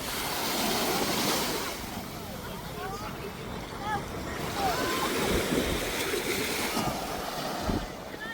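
Surf rolls onto a beach in St Kitts, a broad washing roar that swells and recedes under gusty wind noise, with voices talking faintly in the background.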